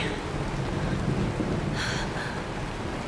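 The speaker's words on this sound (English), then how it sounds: "It's raining!" Rain pours steadily in the Honkai: Star Rail video game, a dense hiss with a low thunder rumble underneath, and a brief higher sound near the middle.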